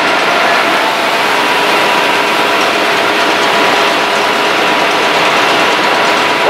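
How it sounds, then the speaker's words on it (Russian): Loud, dense engine noise from a running MTZ tractor hauling a square bale on a farm, steady and close, with mechanical rattling throughout. "трактор МТЗ-шка подвозит квадратный тюб"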